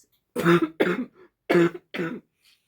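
Two pairs of harsh, throaty coughs, close and loud, with brief pauses between each burst.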